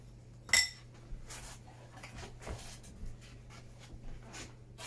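Ceramic backsplash tiles are cut free from their mesh backing sheet. One sharp clink of tile is followed by soft, quiet scraping and snipping, with no talking.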